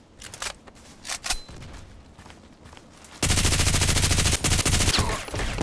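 Socom rifle fire in the video game Contract Wars: a few scattered distant shots first, then a loud, sustained stream of rapid gunfire close by that runs to the end.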